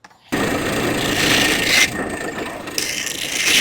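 Wooden dowel edges being rounded off on a workshop tool for a small wooden craft figure, a steady loud abrasive rubbing and grinding that runs without pause after a brief quiet start.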